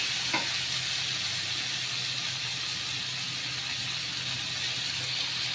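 A paste of ground Kashmiri chili and white sesame fries in a pan with a steady, even sizzle and hiss. One short stirring knock sounds near the start, then the frying carries on alone.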